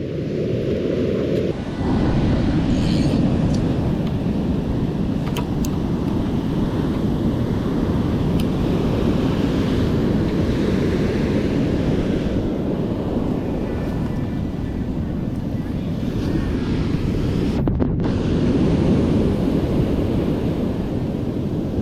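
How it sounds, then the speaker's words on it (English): Ocean waves wash steadily onto a beach during Dungeness crab fishing at outgoing tide, a loud continuous broadband roar buffeted by wind against the microphone, with no distinct breaks between surges. "Waiting for the waves to come in"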